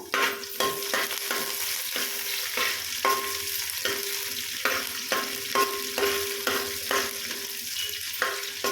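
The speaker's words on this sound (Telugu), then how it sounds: "బగారా అనేది ఒకసారి అంతా కలుపుకుందాము" Bagara rice being stirred in a pot: regular scraping strokes of a spoon against metal, with a faint ringing tone, repeating steadily over a light sizzle, close and without any talking.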